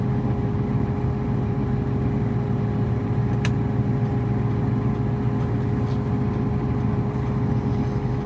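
A Mustang cruises through a small northern Michigan town on a summer day, giving a steady, loud engine drone and road rumble from inside the cabin, with a faint brief tick partway through and no voices.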